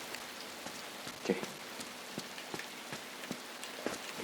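Rain patters across surfaces in a horror adventure game, a continuous soft hiss scattered with distinct nearby drips and splashes landing at irregular moments, no voices over it.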